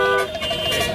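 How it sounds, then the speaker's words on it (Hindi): Car horn honking on a vehicle being driven at full speed on a road, a dense tonal blare filling the whole second, loud and close with traffic noise around it. "ये जो तुम धड़ाधड़ हॉर्न बजा रहे हो"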